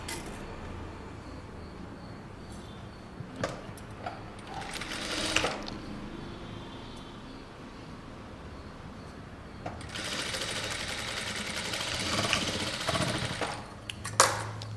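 A sewing machine stitches a kurta lining onto the main fabric in short bursts: brief runs early on, then a longer, louder rattling stretch near the end over a quiet background.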